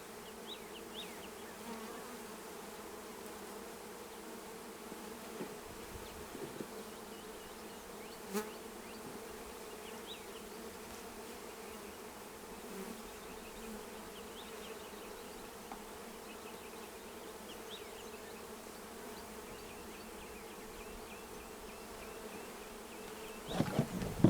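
Honey bees buzz steadily around an opened hive as propolis is scraped from the top bars and smoke is applied, a dense, continuous hum filling the whole stretch with no voices.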